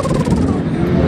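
A voice imitates a Mazda RX-7 rotary engine, a loud, buzzy vocal rev held for about a second with a rough, wavering tone.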